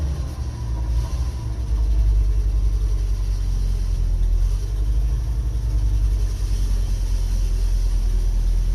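An old Ford Courier's engine runs as the truck is driven into a shop, a steady, close, low rumble that lasts the whole time with no talk over it.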